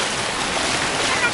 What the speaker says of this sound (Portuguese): É a piscina com ondas.